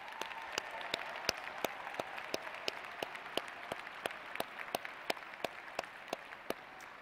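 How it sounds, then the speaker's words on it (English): A large audience applauds doctoral graduates at a Texas State University commencement ceremony in December 2021. The steady, dense clapping sustains evenly throughout, with individual sharp claps standing out regularly above the crowd. "please join me in extending another round of applause for our doctoral graduates"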